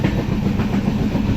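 Inside a moving train near Gadwal, a loud, constant rumble of wheels on track fills the carriage, with a faint rhythmic clatter running underneath and no speech.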